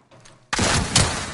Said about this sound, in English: Shooting at me up there.